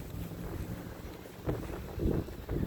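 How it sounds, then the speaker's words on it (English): Blustery wind on a walk in Fargo, North Dakota, a steady low rumble buffeting the microphone with stronger gusts toward the end, heard without talk. "It is a blustery, windy, if those two are not the same word, day here in North Dakota."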